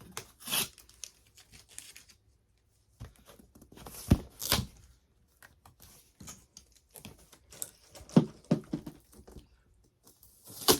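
Tape is peeled off the back of a poster frame in short, quiet bursts of tearing and crinkling, separated by near-silent pauses, with no voices.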